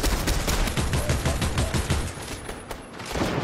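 Rapid bursts of gunfire from Fortnite Battle Royale gameplay, a dense volley of crackling shots with several closely spaced rounds, fairly loud throughout.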